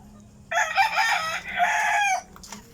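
A rooster crows loudly and close by in a backyard chicken farm, one long drawn-out call, with a faint hum of other fowl in the background.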